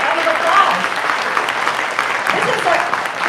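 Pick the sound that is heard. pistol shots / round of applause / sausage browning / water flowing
round of applause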